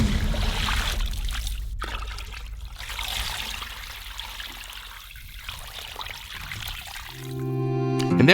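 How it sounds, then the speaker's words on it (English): Water poured into a cauldron holding a huge sturgeon head and pieces for an 18th-century royal fish soup, a steady close splashing and trickling pour that eases off midway, then swells again before a ringing tone at the end. "and fill it all up with water."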